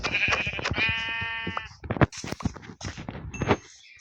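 A single drawn-out Minecraft sheep bleat sounds up close, surrounded by quick clicks, thumps and brief bits of voice.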